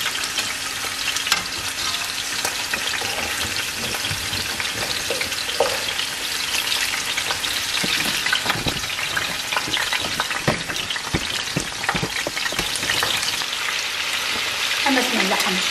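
Beef shoulder sizzles steadily in a hot pot, with scraping and clinking as it is stirred now and then; no talking.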